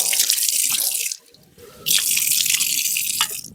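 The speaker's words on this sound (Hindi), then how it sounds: "मेरे चेहरे पर पानी भी तो लगा हुआ है। चलो मैं धो ही लेता हूँ।" Tap water runs steadily into a sink as someone washes their face. The flow stops briefly and then resumes, loud and close, with no talking.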